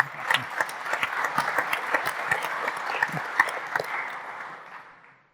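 A modest audience at an industry panel claps for a speaker, a brisk patter of individual hands that holds steady and then fades out over a few seconds.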